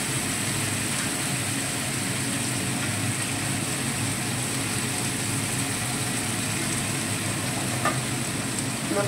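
Bombay duck fish fry in an uncovered pan, a loud continuous sizzle and crackle of hot oil holding steady with faint pops, no talking.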